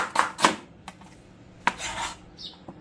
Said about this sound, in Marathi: आता राहिलेले कांदे असे फक्त उभे मारून घ्यायचे